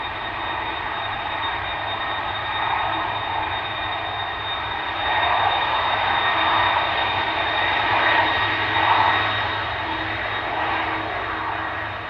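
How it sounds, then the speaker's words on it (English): Jet engines of a KLM Airbus A330-200 roar steadily at Amsterdam Schiphol as the airliner departs for Kigali, a loud, sustained broadband rumble with a faint high whine that swells slightly mid-way and holds without pause. "Clearly audible now, the engines of the A330-200 to Kigali, KLM flight 539."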